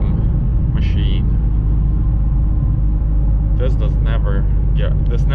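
A Whipple-supercharged Shelby GT350 rumbles steadily and loudly from the cabin while driving, with a deep low drone throughout and brief voices or higher sounds breaking in near the start and end.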